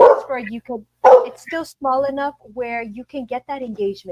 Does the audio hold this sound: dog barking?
yes